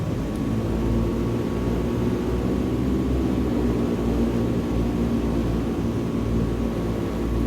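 Bush plane taking off in Microsoft Flight Simulator 2020, a steady loud propeller engine drone and roar holding constant throughout with no talking.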